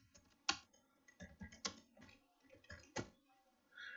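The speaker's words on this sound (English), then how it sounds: "Let us start typing the work." Keys clatter on a computer keyboard while text is typed into Microsoft Word, a close, sparse run of irregular clicks and taps with short pauses between them.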